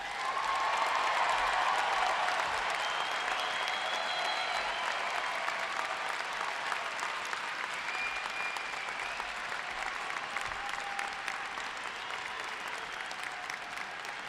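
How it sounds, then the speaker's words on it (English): A large commencement audience applauds the graduates in a sustained, dense wash of clapping, loud and even throughout with a faint crowd murmur beneath. "can I hear one rousing hand of applause for every single graduate today?"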